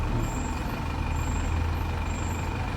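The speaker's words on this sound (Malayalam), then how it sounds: "അൻപത് വണ്ടി എന്ന നിരക്കിലാണ് ഇപ്പോൾ കയറ്റി വിട്ടുകൊണ്ടിരിക്കുന്നത്" Heavy vehicles, trucks and buses, rumbling past steadily on a crowded road during the Sabarimala pilgrim rush near Erumeli, with a constant low engine drone, faint air-brake hiss and occasional high tonal beeps.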